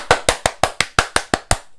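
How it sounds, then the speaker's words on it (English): A single pair of hands claps nine times in an even, steady rhythm, close and sharp, ending in silence. "Clap louder."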